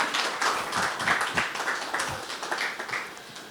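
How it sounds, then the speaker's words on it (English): A round of audience applause, many hands clapping in a dense, steady patter that fades slightly toward the end. "Please join me with a round of applause"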